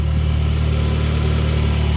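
A Toyota Camry with a 2AZ-FE engine idles steadily after starting, a low even hum with a constant rhythmic pulse and no talking over it.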